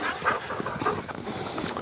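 Several dogs, Cooper, Morty and Poppy, out on a walk, with a dog's breathy panting and faint whimpering close by over outdoor background noise.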